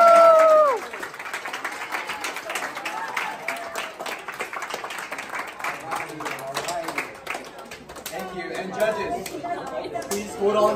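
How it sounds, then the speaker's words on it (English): A crowd applauds and cheers for a team at a baking competition, clapping and chatter sustained through the whole stretch at moderate loudness with voices mixed in. "Round of applause for our team."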